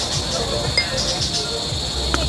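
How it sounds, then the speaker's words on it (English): A steady high chirping of crickets in Cebu hums beneath faint background noise, constant and even throughout. "I can hear the crickets."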